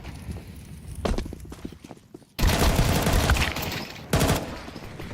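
A Desert Eagle fires in a professional Counter-Strike 2 match at ESL Pro League, heard as loud, sharp gunshot bursts among the rapid clatter of in-game action and footsteps.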